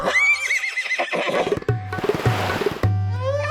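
A horse neighs loudly in an animated story, its whinny rising and wavering over a scene with a bad king, followed by bursts of stamping and clattering sound effects.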